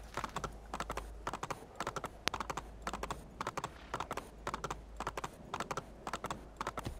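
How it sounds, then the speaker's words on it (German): Horse galloping in the video game Assassin's Creed 2, a steady rapid clip-clop of hooves in quick repeated bursts, fairly quiet and heard alone without talk. "Aber mit dem Pferd sind wir richtig schnell unterwegs"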